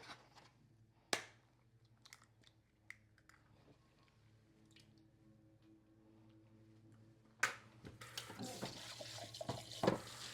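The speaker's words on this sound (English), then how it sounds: "let's go ahead and rinse that off so that when I do get to it, it'll be easy to clean it up." Dishes being rinsed in a kitchen sink after making homemade ice cream: quiet water trickles and drips at first, then a burst of running tap water with splashing and clinks of utensils near the end, no voices.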